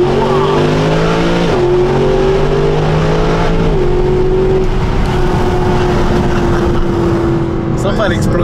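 A Mercedes SLS AMG's naturally aspirated V8 revs hard and pulls away in a race-style start on a circuit, loud and close, climbing through gear changes, with voices briefly heard near the end.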